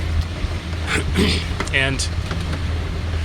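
A shanty boat's engine idles at about 2,000 RPM while cruising slowly on coastal water at low tide, a steady low rumble throughout with a voice speaking briefly over it.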